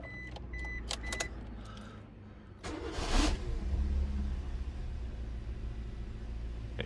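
A Suzuki Swift that shudders on starting and has its check engine light on cranks and catches, a short loud burst that settles into a steady low idle rumble close by, with no talking.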